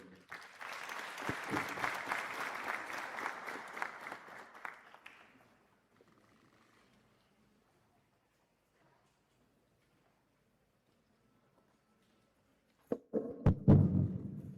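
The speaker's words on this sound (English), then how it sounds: "Big round of applause to our school representative." Applause from the audience at a medical college white coat ceremony, a dense burst of clapping lasting several seconds that fades out into silence before a second short round of clapping starts near the end.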